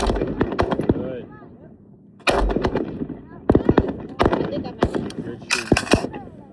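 Rifle shots at a military shooting range, sharp loud cracks fired in quick irregular bursts with short gaps between volleys, echoing in the open, with people talking faintly around them.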